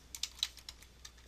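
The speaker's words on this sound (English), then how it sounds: "So let's start typing in some here." Quick, irregular keystrokes on a computer keyboard while Visual Basic code is entered, light clicks tapping out in a loose rhythm, close and fairly quiet, with no voice over them.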